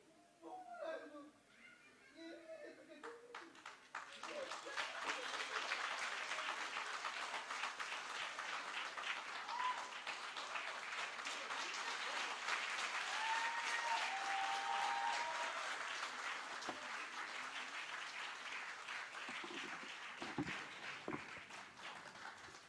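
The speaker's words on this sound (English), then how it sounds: "a big round of applause for Adnan" Sustained audience applause fills the hall after a stage performance at a college cultural event, loud and steady for about twenty seconds, with a brief murmur of voices at the start and scattered cheers and whoops mixed in.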